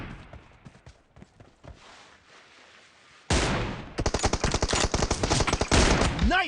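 Video game gunfire: after a few scattered shots over quiet, a sudden loud burst of rapid automatic fire rattles on continuously, rhythmic and close, with no talk.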